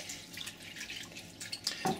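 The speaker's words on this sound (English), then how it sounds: "Now we're going to cover these with water." Water poured from a tap over sliced onions sprinkled with salt, a faint splashing trickle that picks up toward the end, quiet and without speech.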